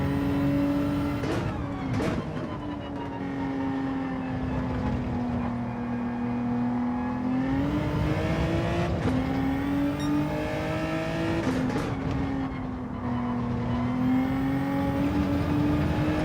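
Race cars in an endurance racing video game, with a high engine whine rising and falling through gear changes and repeated acceleration, plus brief passing cars, loud and continuous with no talking.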